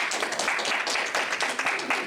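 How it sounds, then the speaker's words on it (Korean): Scattered clapping from a church gathering welcoming a new pastor, a light, uneven patter of hands that stays fairly quiet and thin. "박수 아직 나오지도 않으셨는데"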